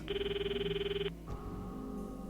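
A telephone rings in a rapid, warbling electronic trill for about a second, then stops abruptly with a click, leaving a lower sustained tone and faint background murmur.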